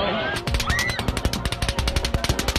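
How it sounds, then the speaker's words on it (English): Rapid automatic gunfire from the Las Vegas concert shooting, a long run of sharp, evenly spaced bursts echoing over a crowd, with faint shouting and noise beneath. "In under a minute, over 100 rounds are fired into the crowd."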